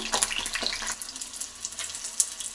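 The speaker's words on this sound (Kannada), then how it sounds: "ನೋಡಿ, ಎರಡೂ ಸೈಡಲ್ಲಿ ಚೆನ್ನಾಗಿ ಎಣ್ಣೆಯಲ್ಲಿ ಫ್ರೈನ ಮಾಡ್ಕೋಬೇಕು." Eggplant frying in oil in a pan gives a soft, crackling sizzle with faint bubbling pops, fairly quiet and continuous over a couple of seconds.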